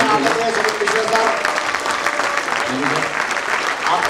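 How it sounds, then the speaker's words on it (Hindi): Dense, steady applause from an audience at Sumit Mishra's Hippo Corporation basic training program fills the whole stretch, loud and continuous without a break. "एक बार बहुत जोरदार तालियों का स्वागत करें सुमित मिश्रा सर"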